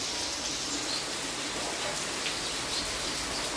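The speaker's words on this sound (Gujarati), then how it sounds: "6:45 વાગે એન્ટ્રી થઈ વરસાદની" Heavy monsoon downpour in a thunderstorm pours steadily and densely, a continuous hiss of rain on surfaces that covers the whole stretch without a break, with a faint bird call somewhere in the background.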